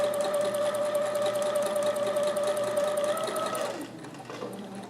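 A sewing machine stitches a Hawaiian shirt made from a Simplicity pattern, running fast and steady at close range, then slows and stops near the end.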